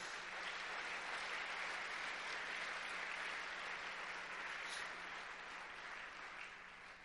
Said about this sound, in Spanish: ¿Le puede dar un fuerte aplauso a Dios?